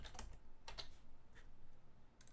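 Computer keys tapped in a short, sparse burst while a copy command is entered for a Cisco IOS image update, faint and close over a steady low room hum.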